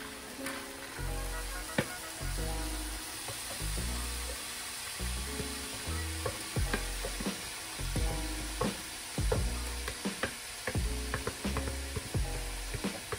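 Four cups of cauliflower rice fry in a pan for shrimp fried rice, a steady close sizzle broken by frequent clicking, scraping stirs against the pan.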